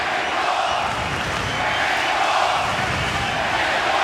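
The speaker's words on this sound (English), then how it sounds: "the crowd is really into it here at the MGM Grand Garden Arena" A boxing crowd at the MGM Grand Garden Arena in Las Vegas, at a Pacquiao–Marquez fight, roars steadily as a dense wash of cheering with a commentator's voice faintly mixed in.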